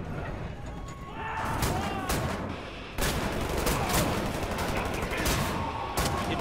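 Shotgun blasts at point-blank range in Wolfenstein: The New Order, with loud repeated shots amid heavy gunfire and crashing impacts, and a voice speaking briefly over the noise.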